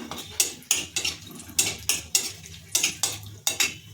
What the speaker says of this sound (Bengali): তেলে দিয়ে দিচ্ছি দারচিনি, লবঙ্গ, এলাচ, একটু নেড়ে চেড়ে নেবো